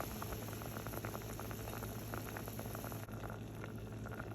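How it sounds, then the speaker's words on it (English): Water with broccoli simmering gently in a cooking pot, a steady bubbling and popping patter that runs continuously at close range with no voices. "So here you can tell this is at a simmer. It's a lot gentler than a boil"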